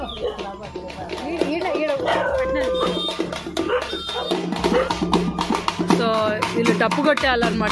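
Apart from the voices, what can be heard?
dogs barking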